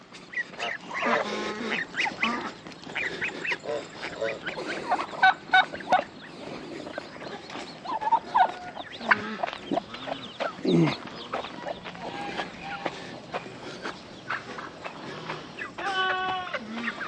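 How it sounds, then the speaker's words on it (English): Geese and chickens on a homestead farmyard, honking and clucking close by in a busy, overlapping jumble, with a person's voice breaking in now and then. "Out of my way, geese."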